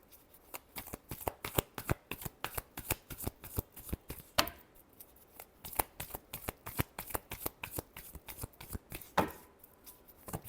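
Tarot cards being shuffled by hand, a quiet, rapid rhythmic riffle of card slaps in repeated bursts with two brief pauses, close and faint, no talking.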